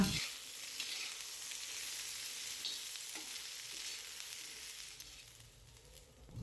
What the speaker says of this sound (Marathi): ह्यामध्ये 1-2 चमचे तेल ओतूया आणि हे साहित्य आहे ना गॅस कमी जास्त करून आपल्याला मस्त असं भाजून घ्यायचं आहे।